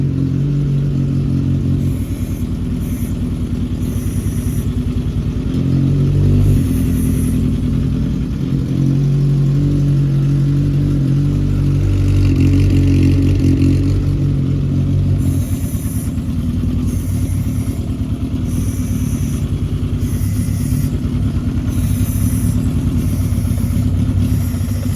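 A Legend race car engine runs steadily close by, a deep rumbling idle with occasional small surges, white smoke coming from the exhaust, and no one speaks.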